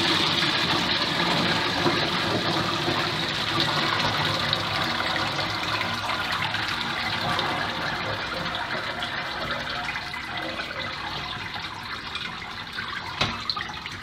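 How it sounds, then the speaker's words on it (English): Whey pouring from cheese curds through a wire mesh colander, a steady close splashing and gushing of liquid that continues evenly throughout with no talk. "Just drain the curds out into the colander"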